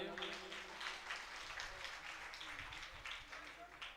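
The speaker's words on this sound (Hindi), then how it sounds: "इनके लिए भी एक बार ताली बजा दीजिए।" A crowd claps at a live Shrimad Bhagavat Katha religious gathering in Kim, Surat: soft, continuous, fairly distant clapping with voices murmuring underneath.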